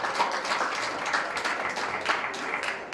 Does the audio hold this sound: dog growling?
no